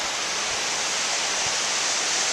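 A waterfall on Snowdon beside a lake, on the Pyg or Miners Track, roars as a steady, dense rush of water, close and unbroken throughout.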